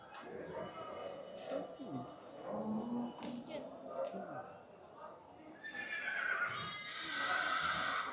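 Horses whinny amid the bustle of the Kashgar animal market in Xinjiang, China, with crowd chatter and people talking throughout and louder neighing toward the end.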